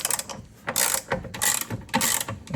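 A hand ratchet clicks in quick bursts while loosening bolts on Toyota TRD door stabilizers, with several close, crisp runs of pawl clatter separated by brief pauses and no talk.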